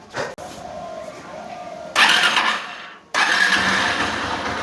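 A two-wheeler with a new clutch plate and newly fitted cylinder kit starts on the first press of the self-starter, the engine catching and running loudly, then dropping briefly before revving up again.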